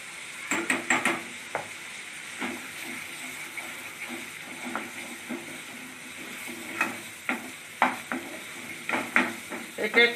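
Garlic paste frying with onion and ginger in a pan for a Bengali prawn malai curry, a soft steady sizzle under repeated sharp scrapes and clinks of a spatula stirring against the pan.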